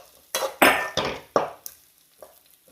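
A handful of sharp scraping strokes of a spoon in a pan while onion fries with pounded fenugreek and cumin, four quick clatters close together, then fainter, with no talk.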